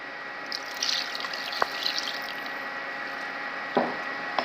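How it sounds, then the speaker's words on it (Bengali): Water poured into a pot of chicken and red lentils, masoor dal, cooking for a Pakistani-style chicken dish: a steady low wash of liquid with a few small splashes and drips, moderately close. "এখন আমি এখানে পানি দিয়ে দিব।"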